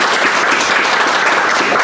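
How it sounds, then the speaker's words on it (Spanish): Loud, steady applause from an audience at the inauguration of a school space, a dense continuous clatter of clapping hands with no speech over it. "Y entonces de verdad que un aplauso muy grande."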